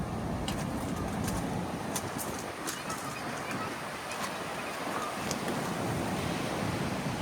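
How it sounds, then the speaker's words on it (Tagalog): Continuous wash of ocean waves and wind, loud and broad, with faint bird calls scattered above the roar, on the beach at Lubayat, Real, Quezon in the Philippines, with fairly strong waves outside summer. "medyo malakas ang alon"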